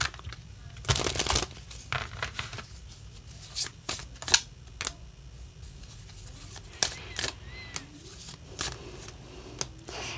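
Tarot cards being shuffled in quick riffling bursts, with soft crisp snaps and flutters spread irregularly across the clip, close up with no talking.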